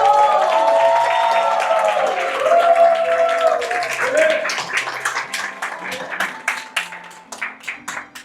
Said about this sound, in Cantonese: 我哋而家即刻掌聲歡迎